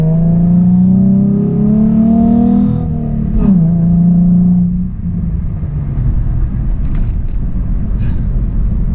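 A 2012 Ford Mustang 3.7L V6 Transformers Edition revs hard, its exhaust rising and falling in pitch, then settles into a rougher rumble with a few sharp crackling pops near the end, close and loud throughout.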